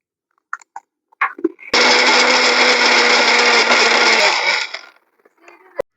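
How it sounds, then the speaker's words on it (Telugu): An electric mixer grinder grinds Oreo biscuits into powder for an eggless cake, a loud steady whirring roar lasting about two and a half seconds, framed by a few short clicks and knocks before and after. "ఇప్పుడు ఆ 3 బిస్కెట్ ప్యాకెట్స్లో ఉన్న బిస్కెట్స్ని తీసుకొని మిక్సీ జార్లో వేసుకోవాలి"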